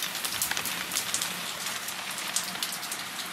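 Steady rain patters densely on a surface, close and continuous, with no voices.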